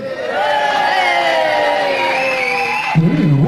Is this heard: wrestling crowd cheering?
yes